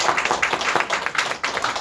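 Audience applause at a choir's New Year workshop, a steady dense patter of many hands clapping at moderate loudness throughout, with no talk.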